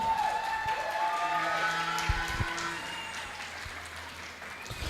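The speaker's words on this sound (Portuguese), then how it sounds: "Dá mais um aplauso aí." Steady applause from a church congregation during a cell-group service, a dense continuous patter of many hands filling the room for the full stretch at fairly even loudness.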